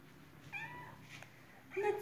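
Several young kittens, summer-born and four to five months old, give a few short, faint meows at a shelter, with a louder, clearer cry near the end.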